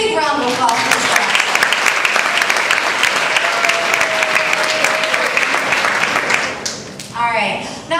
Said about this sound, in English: So big round of applause for this guy.